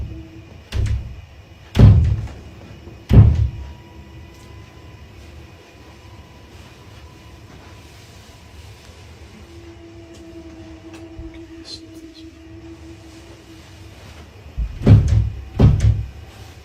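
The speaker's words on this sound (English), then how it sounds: "Can you hear it? It's this door." Loud heavy thuds of banging on a door inside a home, two hard knocks early on, a quiet stretch with faint background hum, then a rapid cluster of three more bangs near the end.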